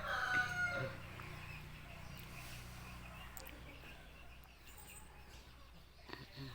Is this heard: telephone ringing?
no